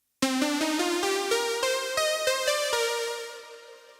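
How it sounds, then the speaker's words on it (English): A second analog synthesizer, a near-identical model released a couple of years later, plays a similar run of plucky notes with crisp attacks that ring out and decay into silence at the end, clear and solo. "how does it sound on this synth"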